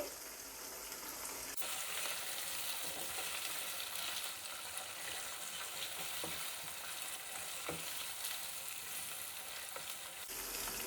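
About a kilo of scored chicken legs fry in a pan for dum pukht biryani, a loud, dense, continuous sizzle and crackle close by with occasional stirring knocks, no talking heard.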